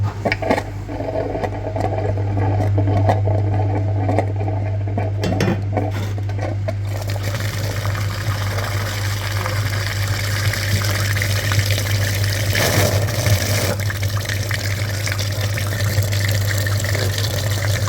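Coolant flushing machine pumping fluid through a Hyundai Tucson's cooling system, a steady gushing liquid flow over a constant low motor hum, continuous throughout and fuller after the first few seconds.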